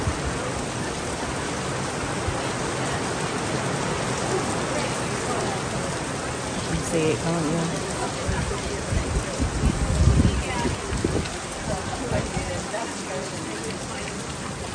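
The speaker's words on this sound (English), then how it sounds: "It poured and poured down." Steady heavy rain hissing down on surfaces, a dense, even wash of noise, with a short spoken remark partway through.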